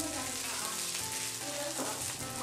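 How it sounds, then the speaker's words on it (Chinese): Cooked rice pressed flat and pan-fried in a wok for egg fried rice, a dense continuous hiss of sizzling oil filling the background at an even, moderate level, no voices. "铺平之后再煎两分钟，然后再翻炒"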